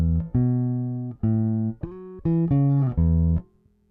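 A Peavey T45 bass guitar with the tone rolled all the way back plays about seven clean, dark, round sustained notes in a loose rhythm, close and alone, fading out at the end.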